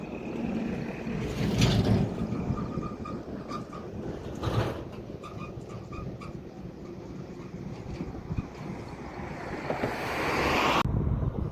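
Cool wind blowing outdoors, a steady, close rush of gusts buffeting the microphone, rising and falling in strength with a few faint distant sounds beneath.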